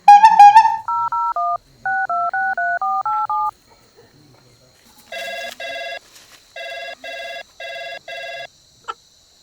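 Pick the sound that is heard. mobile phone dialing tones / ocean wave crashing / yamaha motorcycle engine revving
mobile phone dialing tones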